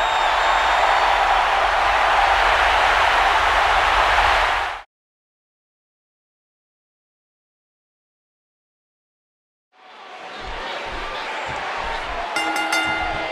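Wrestling-arena crowd noise in WWE 2K15 as Edge makes his entrance: a steady, loud crowd roar, then a stretch of silence, then crowd noise returning with thuds and bright clanks.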